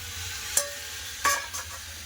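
Peas and vegetables sauté in a pan over a low steady sizzle, broken by a few sharp scrapes and clinks of a spoon stirring them around, with no voices.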